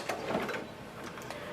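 Ink cartridges shuttle inside an HP OfficeJet Pro 9130e printer with its front panel open, a soft continuous mechanical whir with faint clicks, quiet and close.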